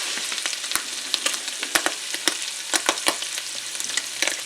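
Bacon and ham frying in a pan, a loud, close, continuous sizzle dense with sharp crackles and spitting pops throughout.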